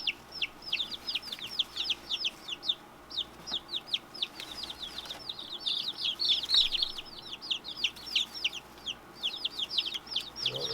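Barred Rock and Silver Laced Wyandotte chicks in a brooder keep up a steady run of high, rapid peeping chirps throughout, close and fairly loud, with a faint background hum.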